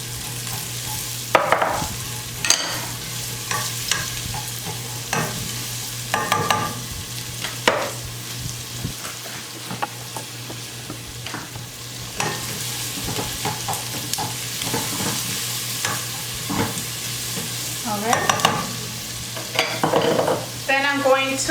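Onion being stirred into a simmering white bean and calabaza pumpkin stew, with a steady sizzle under repeated scraping spoon strokes in the pot, close and moderately loud, no talking.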